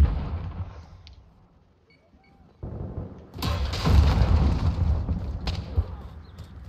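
Gunfire in Call of Duty Modern Warfare during a hardcore Kill Confirmed match on the Talsik Backlot map: a quiet lull gives way to loud, dense bursts of shots and booming thuds, with sharp cracks standing out near the start and end.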